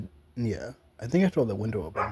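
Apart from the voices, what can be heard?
dog barking outside through an open window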